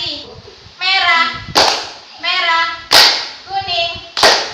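Children in a classroom play a concentration clapping game, bursts of sharp group claps alternating with a teacher's call and the children's chanted replies, loud and close in a repeating call-and-clap rhythm.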